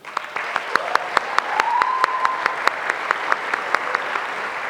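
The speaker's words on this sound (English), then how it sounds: "Round of applause for you guys." Audience applause at a youth leadership awards ceremony: a small group claps in a steady, sparse rhythm of distinct sharp claps, with a faint tonal whistle or cheer rising over it.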